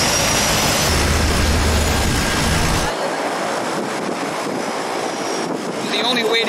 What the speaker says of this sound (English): The only way to really get to this island is by one of these, we'll call them seaplanes.